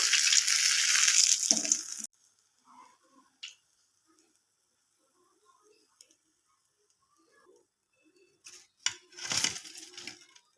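Prawn fritters fry in hot oil with a loud, hissing sizzle for about two seconds, then fall nearly silent apart from faint clicks and a brief clatter near the end.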